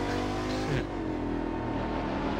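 A car engine in The Crew 2 racing game holds a steady, moderately loud drone with a brief swell partway through, no one talking over it.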